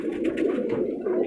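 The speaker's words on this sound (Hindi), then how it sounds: "ये लड़ने वाले कबूतर हैं भाईजान मेरे।" Lahori Sherazi fighting pigeons coo at a pigeon breeding farm, a steady throaty warble close by with no talk.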